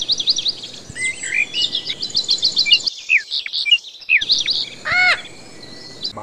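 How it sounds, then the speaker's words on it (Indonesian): A cockatiel gives rapid, shrill chirps and whistled calls in bursts, close and loud, with a brief pause partway through before a final run of rising whistles. "Koktel."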